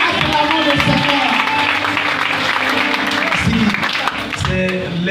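A church congregation at a family thanksgiving service applauds to acclaim the Lord, with steady, close clapping running throughout while voices talk over it.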